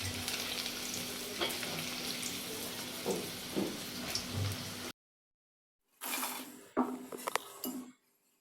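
Egg-coated french fries sizzle steadily in hot oil, then stop abruptly, followed by clinks of utensils and pans.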